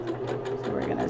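Sewing machine back-stitching on a cloth napkin, a steady close mechanical whir with a fast stitch rhythm running through the whole brief moment.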